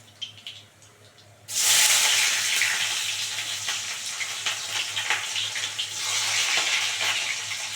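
Chopped onion hitting hot oil already seasoned with kalonji (nigella seeds), a loud sudden sizzle that bursts in after a brief quiet start and keeps frying steadily and close up.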